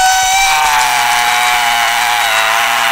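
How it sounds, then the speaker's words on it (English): A drill boring into a skull during a mock tonsillitis surgery in a game, a loud steady high-pitched mechanical whine with a grinding buzz that runs unbroken through the whole stretch. "Now use the drill to shape a mold in the skull"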